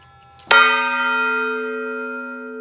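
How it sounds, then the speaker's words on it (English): A large bell at Champ's Clock Shop is struck once, very loud and close, after a brief faint patter. Its rich ringing tone then sustains and decays slowly. "I'm probably going to have hearing problems when I'm older because of this bell"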